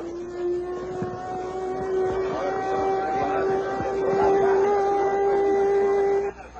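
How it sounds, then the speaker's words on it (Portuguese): Alert siren sounding at the Itaipu dam ahead of an explosive detonation, a loud steady wailing tone held for about six seconds with faint background noise, then cutting off. "Mas antes de tudo, a sirene de alerta."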